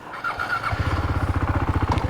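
A KTM Duke 390 motorcycle revs up and pulls away, its engine settling into a loud, close, throbbing rhythmic exhaust note after a brief idle.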